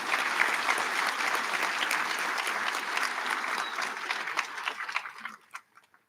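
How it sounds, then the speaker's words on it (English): A commencement ceremony audience applauds, a steady rush of many hands clapping that holds for about five seconds, then thins to a few scattered claps and fades out. "let's give her a round of applause"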